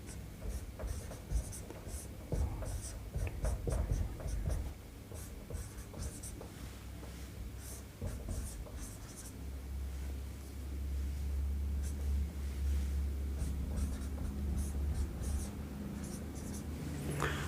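Marker or pen writing an optics equation on a board during a physics lesson, with repeated close scratchy strokes throughout and a low background hum.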